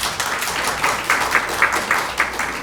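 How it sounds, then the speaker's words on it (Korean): A church congregation applauds at a Sunday service to welcome a visiting son, a dense patter of many hands clapping at moderate distance, continuous with a few sharper claps standing out. "박수로 환영하겠습니다."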